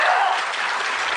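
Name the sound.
audience applause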